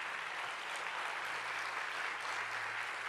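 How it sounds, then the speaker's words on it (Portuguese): A church congregation applauds at a Portuguese-language sermon, a steady, even wash of many hands clapping heard from a distance throughout, with no voices on top. "Pode aplaudir Jesus, pode aplaudir Jesus."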